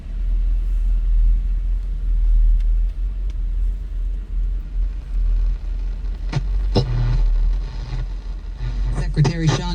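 A 1962 Ford Thunderbird two-door hardtop's engine idles with a low, steady rumble, joined later by a few clicks and handling noises and a voice speaking.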